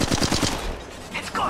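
Rapid automatic gunfire from the mobile shooter Apex Legends Mobile crackles in a quick burst of shots at the start, followed by quieter game sounds and a faint later flurry.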